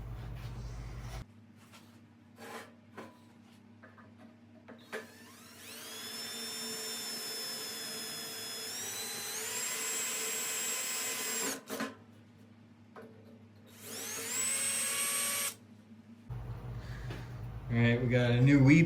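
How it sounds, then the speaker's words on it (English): A power drill bores a weep hole into a dirt bike frame in two sustained whining bursts, the motor pitch climbing as it cuts through the metal, with a low hum of the workshop between and quiet moments around them. "I need to drill a weep hole."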